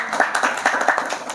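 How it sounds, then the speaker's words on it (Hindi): Audience clapping at a quiz session, a short burst of brisk, fairly loud hand claps in quick irregular rhythm, with no talk over it. "आपके लिए पहले ताली है ना"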